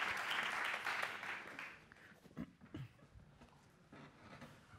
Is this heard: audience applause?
yes